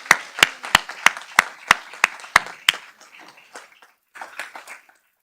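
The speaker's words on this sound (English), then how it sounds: "you can give yourselves a round of applause" Clapping at a Modesto City Schools board of education meeting for substitute employees, about nine sharp, evenly spaced claps followed by a scattered, softer smattering that trails off.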